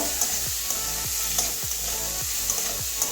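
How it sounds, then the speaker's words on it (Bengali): Okra and red lentils fry in a pan while a spatula stirs them, a steady sizzle broken by regular scraping strokes about every half second, close and continuous with no talk. "দুই এক মিনিটের জন্য এটা নাড়িয়ে নেব ভালো করে একটু ভাজা ভাজা হয়ে যাবে"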